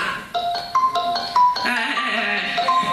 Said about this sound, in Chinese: 哎，电话来了